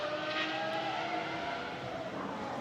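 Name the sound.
GT1 race car driving on track at Barcelona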